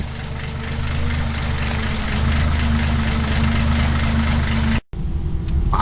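A 1953 Pontiac engine, freshly fired up after its dirty spark plugs were cleaned, idles steadily with a deep low rumble and close, loud vibration, cutting out abruptly near the end before the running sound resumes.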